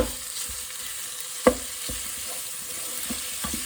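Red onion sizzles steadily in a pan, a soft continuous crackle with a few light clinks of a utensil stirring.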